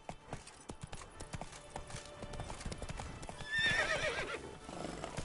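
Roach, a horse in The Witcher 3: Wild Hunt, gallops with rapid steady hoofbeats throughout, and a loud neigh rises near the end over the running clip-clop.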